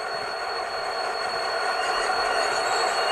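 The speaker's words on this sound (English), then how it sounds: "So you can hear the flange squeal." Flange squeal from an HO scale SD70ACe model locomotive with ESU LokSound sound, a steady high metallic screech over a continuous rolling rumble, close and even throughout.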